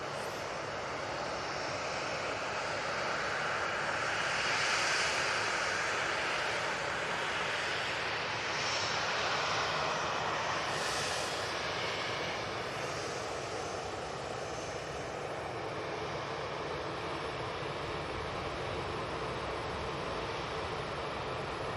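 An EasyJet jet airliner on the runway at Manchester Airport produces a steady, fairly quiet engine roar with a hissing whine that rises a little midway and then evens out.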